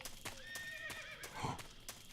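Horse neighing in the video game Metal Gear Solid 3, a faint whinny heard alone with a few soft clip-clop thuds around it.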